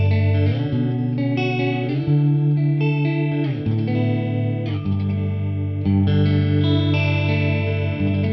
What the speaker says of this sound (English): it is a lovely, lush chorus.